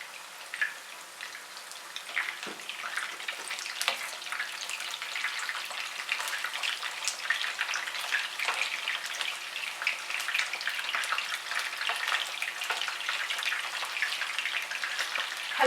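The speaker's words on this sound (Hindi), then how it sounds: "अब हम कबाब्स को फ्राई करेंगे मीडियम टू लो आंच पे।" Beef reshmi kababs frying in hot oil over medium-low heat, a dense, steady bubbling sizzle with scattered crackles and pops throughout, close and continuous.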